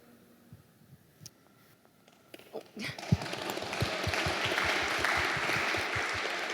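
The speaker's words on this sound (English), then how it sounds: "So thank you for all the applause." An audience at a panel event on rainforests and climate starts with a few scattered claps, then swells into full, sustained applause that fills the room.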